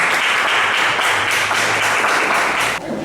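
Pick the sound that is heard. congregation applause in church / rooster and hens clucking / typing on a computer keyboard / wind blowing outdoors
congregation applause in church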